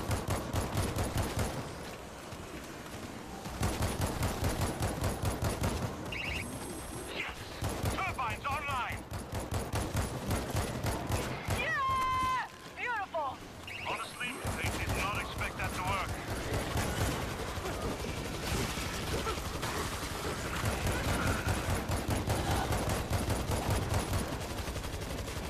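Sustained gunfire in the zombie shooter World War Z, rapid automatic bursts and shots running almost without pause, briefly dropping out midway before resuming.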